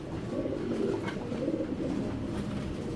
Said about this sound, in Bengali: সাপচিলা কবুতর ভাই